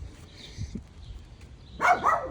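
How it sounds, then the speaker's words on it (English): Territorial dogs bark at another dog on the road outdoors, a short burst of barks near the end after quieter yips and rustling, with no talking. "Ignore the dogs."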